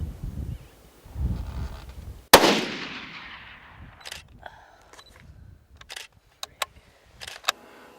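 A single sharp gunshot cracks loudly and rings out with a decaying echo, preceded by low rustling and followed by scattered clicks and handling sounds.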